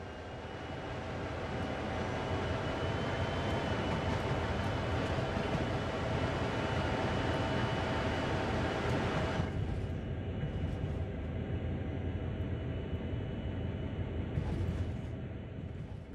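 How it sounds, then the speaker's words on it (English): A CSX heavy haul freight train in Train Sim World coasts along with a steady, dense rumble and rolling rail noise, a faint higher whine joining partway through. "Have a play with moving the camera around while the train is coasting along."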